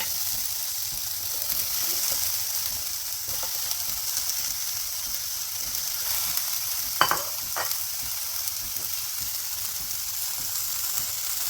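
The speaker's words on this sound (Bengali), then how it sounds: "ঠিক এভাবে শুটকিগুলি দিতে হবে তাহলে সুন্দর করে ভাজা হবে" Dried fish (shutki) frying in a pan, a steady close hiss of oil carrying through the whole stretch, with a couple of brief clinks or scrapes near the middle and no talking.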